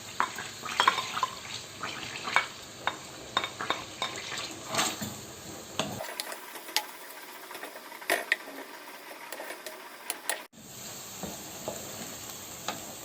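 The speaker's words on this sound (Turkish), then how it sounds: "Öncelikle soğan ve biberleri şöyle bir kavuracağım." Onions and peppers sizzle in a hot pan while a utensil scrapes and clinks against it, stirring at an uneven rhythm, close and fairly loud.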